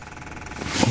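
An old military surplus backhoe engine, abandoned for decades, turns over with a rough mechanical churn that swells suddenly louder at the very end of a brief burst.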